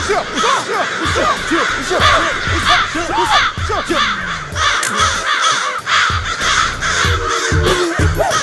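A flock of crows caws loudly and continuously, many overlapping harsh calls close by over a dense outdoor background, with no talk.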